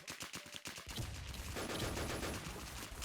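Rapid automatic gunfire in a multiplayer shooter game, a dense, loud, continuous burst of shots after a few quick opening rounds.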